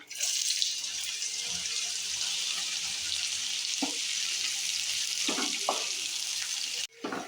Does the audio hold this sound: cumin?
yes